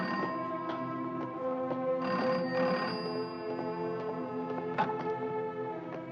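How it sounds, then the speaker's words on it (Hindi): An old-style telephone bell rings in a Hindi radio drama, a harmonic-rich electric ring repeating in short bursts and heard up close with no speech. "अरे भाई टेलीफोन उठाने जा रहा हूँ"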